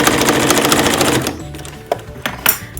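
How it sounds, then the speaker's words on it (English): A sewing machine runs a fast, steady stitching burst across quilted fabric for a heart pouch, then stops, leaving a few sharp clicks and handling noises close by. "so I'm just going to fix that line of stitching"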